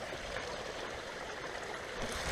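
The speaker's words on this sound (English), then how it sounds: "I'm next to this rushing river." Rushing river water of Limpy Creek along a hiking trail, a steady broadband roar and splash that holds evenly throughout, moderately distant and alone without voices.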